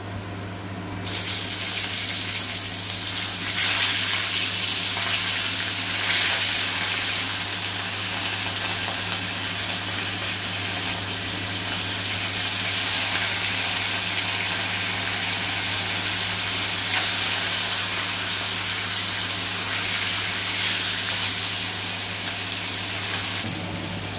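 Steady, loud broadband sizzle of rohu fish frying in hot oil in a wok, continuous and close for the whole stretch with no voices.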